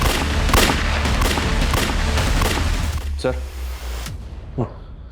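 Gunfire in a TV crime drama: a rapid string of loud shots over the first few seconds, then fading to scattered sounds and quiet.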